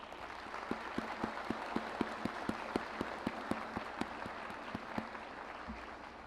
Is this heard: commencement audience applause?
yes